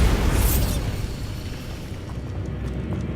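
The Bombarda blasting spell in Hogwarts Legacy erupts in a loud, deep explosion. The boom hits hard at the start, then settles into a rumbling tail of debris that fades without fully dying away, with no voices.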